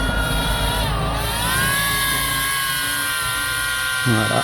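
A KFPLAN KF615 toy FPV drone lifts off and hovers with a loud, steady high-pitched propeller whine. The pitch rises slightly as it climbs and shifts briefly near the end.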